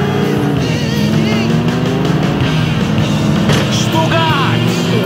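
A car driving in Grand Theft Auto IV, a loud, steady engine drone that shifts in pitch as it moves, with road and traffic noise mixed in.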